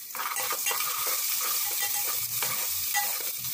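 Onions sizzle steadily in hot tempering oil with whole spices, cooked for an iftar meal, with occasional stirring scrapes over a loud, continuous close-up fry.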